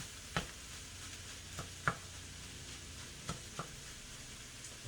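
Steak and vegetable fried rice with sticky rice, fish sauce and soy sauce is stirred in a pan, a soft continuous sizzle broken by a few scraping knocks of the utensil.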